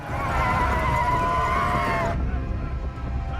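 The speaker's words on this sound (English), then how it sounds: "the horses come over the hill with the Dothraki" Dothraki war horses neigh in a long loud whinny over a dense rumble of galloping hooves, with a large mounted charge cresting a hill.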